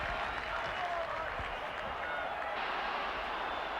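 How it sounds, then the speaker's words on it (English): Rugby league stadium crowd roaring and applauding after a Wigan kick against Leeds, a dense, steady wall of cheering sustained throughout at a distance. "The crowd in uproar."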